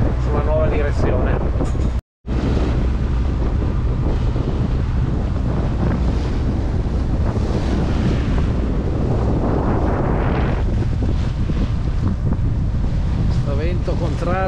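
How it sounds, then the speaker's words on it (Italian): Strong headwind roaring across a microphone aboard a sailboat at sea, a continuous loud buffeting rush with waves and hull noise beneath, briefly cut out near the start. "Sto vento contrario è una vera maledizione"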